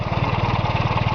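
A yellow 1947 Empire Model 90 tractor engine runs steadily close by, its low, even pulsing chug loud and continuous with no talk over it.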